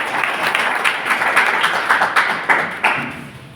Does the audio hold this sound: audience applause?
yes